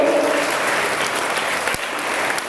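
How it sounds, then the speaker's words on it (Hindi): Audience at a Border Security Force self-defence programme event applauds to welcome a speaker, steady dense clapping throughout with a faint tone at the start. "सर का ताली के साथ स्वागत करिए"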